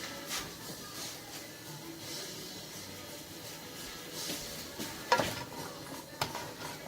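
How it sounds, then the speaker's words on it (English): Vegetables being lightly sautéed in melting butter for sloppy joe, a soft steady sizzle under intermittent scraping and stirring with a spoon against the pan, including a sharper clink near the end. "And I'm going to saute that for, lightly saute it."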